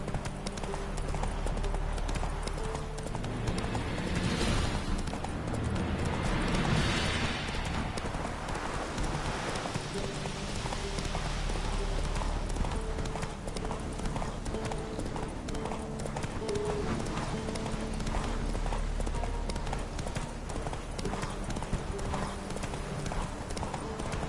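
Hooves of Roach, the horse in The Witcher 3: Wild Hunt, clip-clopping in a steady trotting rhythm throughout, close and clear over a continuous outdoor game ambience with a brief snort or whinny.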